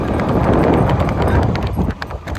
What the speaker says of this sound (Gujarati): જોઈએ આપણે ઘોડીની રાઇડિંગ